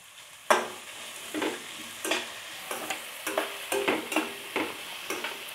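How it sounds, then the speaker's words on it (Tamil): Spices and curry leaves frying in oil, with soft sizzling and repeated stirring scrapes at a steady, irregular rhythm, close and moderately quiet. "அந்த ஸ்பைசஸ் எல்லாம் எண்ணெயில் கலங்கினதுக்கப்புறம் கருவேப்பில் போட்டுக்கலாங்க"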